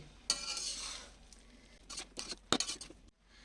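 A spatula gently stirs ghee-coated vegetarian fried rice in a pan, giving soft close scraping and rustling strokes with light sizzle, irregular bursts of movement and a brief clatter near the end, with no talking.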